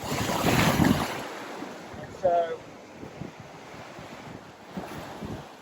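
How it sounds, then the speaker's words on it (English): Ocean waves wash in on a sandy beach, a steady broadband surf wash with wind noise over the microphone, loudest at the start and then rolling on more softly, with a brief voice in the clip. "when the wave's coming in, just like this"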